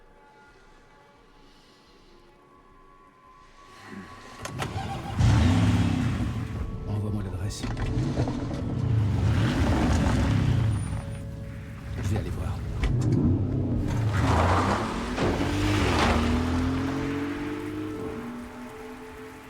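A Porsche driven in the video game Resident Evil Requiem, its engine revving and rising through gears over steady rain, with a character's voice talking briefly early on.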